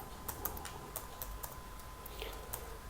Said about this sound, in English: Now I'm again typing